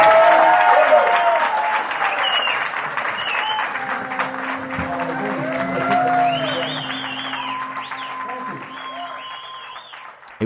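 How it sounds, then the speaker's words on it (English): Applause and whoops from a mixed crowd at a comedy tour show welcome a performer to the stage, loud at first and easing off, with voices and cheers over the clapping. "please put your hands together for the wonderful Mr."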